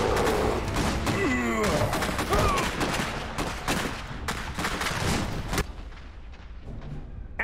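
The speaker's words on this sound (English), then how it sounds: "We're taking fire!" Gunfire and artillery from the video game Iron Harvest: dense, continuous volleys of shots and booming blasts fill the scene at steady volume, with a few brief voice shouts and whistling effects mixed in.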